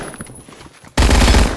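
PPSh-41 submachine gun fired in a video game, with a sudden loud burst of rapid automatic shots starting partway through, after a quieter stretch.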